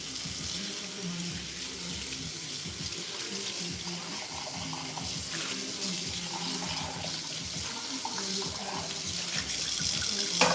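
Tap water running into a kitchen sink while forks are washed, a steady close splash with faint clinks, and quiet talk partly under it.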